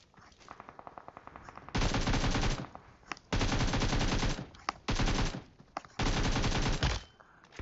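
Automatic gunfire in PUBG Mobile on the Erangel map: four long, loud bursts of rapid shots separated by short pauses, with lighter clicks and scattered single shots between them.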